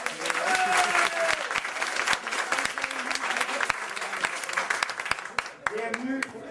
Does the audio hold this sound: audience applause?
yes